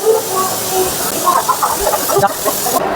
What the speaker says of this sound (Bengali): আমার ঠিক সামনেই দাঁড়িয়ে আছে বাইশ উননব্বই পাঁচ বন্দে ভারত এক্সপ্রেস পুরী বন্দে ভারত এক্সপ্রেস